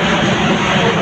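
Loud, steady engine roar from a large Emirates jet airliner, a continuous broadband rumble with no breaks across the whole second.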